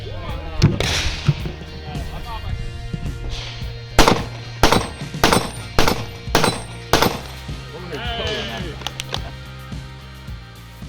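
Rapid gunfire from a practical shooting competition stage in Finland, with a burst of about seven sharp, loud shots in quick succession mid-clip, preceded and followed by scattered shots, while people shout encouragement in the background.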